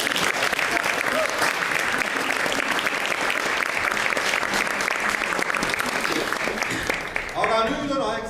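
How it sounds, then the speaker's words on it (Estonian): A family concert audience applauds steadily and loudly, dense continuous clapping filling the room for about seven seconds before it thins out at the end. "Aga veel üks suur aplaus meile."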